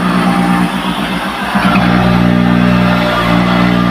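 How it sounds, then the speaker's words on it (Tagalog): An electric water pump motor on a household pressure tank system runs steadily with a loud, continuous hum and engine-like drone, held close throughout without pause. "Pero naandar ang motor."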